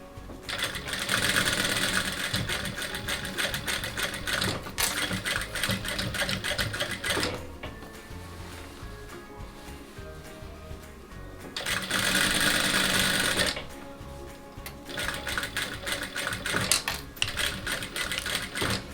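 A sewing machine topstitches along the edge of a cloth tote bag in rapid, fairly close bursts of stitching, stopping briefly in between and then starting again, with no talking.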